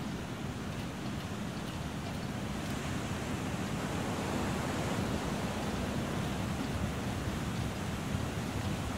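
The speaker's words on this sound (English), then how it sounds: "Waterfall." Waterfall in the snowy wilderness survival game The Long Dark, heard as a steady, broad rushing roar of falling water that holds at an even level throughout without a break, with nobody talking.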